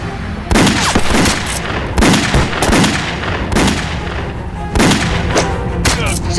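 Loud bursts of gunfire in a Chinese anti-Japanese war film action scene, with heavy booming shots repeating every second or so, close and harsh, with brief voices mixed in.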